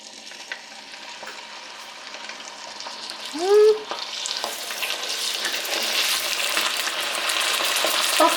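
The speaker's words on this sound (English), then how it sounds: "my oil is beginning to heat up" Washed meat hitting hot oil for kondre, with a steady sizzle and frying hiss that builds and stays loud, plus a brief squeal of a utensil partway through, no talking.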